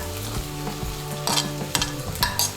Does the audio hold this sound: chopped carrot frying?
yes